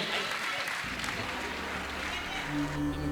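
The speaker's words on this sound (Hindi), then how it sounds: "जोरदार ताली बजाकर सम्मान करें।" An audience at a spiritual Q&A gathering in Indore applauds loudly to honour a guest, a steady wash of clapping throughout, with a voice speaking over it near the start.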